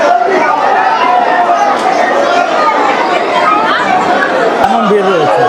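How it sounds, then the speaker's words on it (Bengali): Pilgrims crowd the Tarakeswar temple on the last Monday of Shravan, their dense babble of many voices close and loud, with a short clatter near the end. "এখন তারকনাথের মন্দিরের সামনে, বাবা তারকেশ্বরের তারকনাথের মন্দিরের সামনে কিন্তু এই ভিড়"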